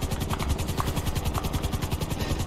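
A helicopter in the GTA 5 video game, flying and coming in to land, gives a loud, steady rapid rotor chop with a low engine drone throughout, no talk.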